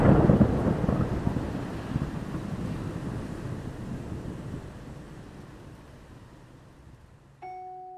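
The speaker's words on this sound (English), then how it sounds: "you hear a deafening thunder." A heavy, deafening thunder roll crashes in close and loud, then rumbles and slowly fades over several seconds with a rain-like wash, before a faint musical tone enters at the end.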